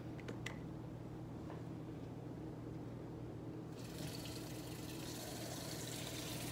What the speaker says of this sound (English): about to add some more water